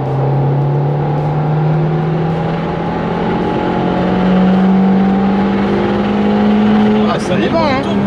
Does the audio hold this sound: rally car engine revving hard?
yes